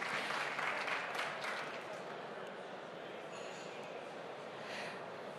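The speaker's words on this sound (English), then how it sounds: "Give them an applause." An audience at a conference on mountain tourism claps for a panel, the applause somewhat distant and fading after a couple of seconds while voices murmur underneath.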